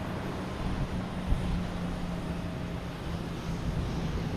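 A JetBlue airliner at Boston Logan Airport gives off a steady, distant broadband roar with low rumble, holding at an even level throughout with no voices.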